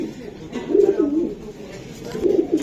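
Racing pigeons in a loft coo nearby in low, throaty rolling phrases, two bouts separated by a short lull, over faint background noise.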